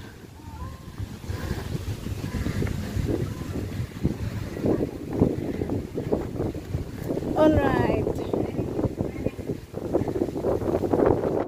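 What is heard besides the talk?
wind along the Lachine Canal path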